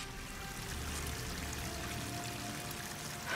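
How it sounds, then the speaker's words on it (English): Continuous rushing waterfall in the video game Horizon Forbidden West, a steady broadband pour with no pauses, heard alone without talk. "That waterfall must be coming from somewhere."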